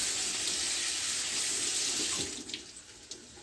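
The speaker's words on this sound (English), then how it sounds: "we're just gonna go ahead and rinse the yam out" Tap water runs steadily over a frozen yam being rinsed in a kitchen sink, a close continuous splash that thins near the end into a few scattered drips and trickles.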